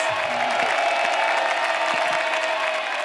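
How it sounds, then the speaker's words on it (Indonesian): Studio audience at a Hidden Talent television show applauding the panelists, a dense continuous wash of clapping from a crowd, steady and fairly loud throughout. "tepuk tangan dulu buat para panelis"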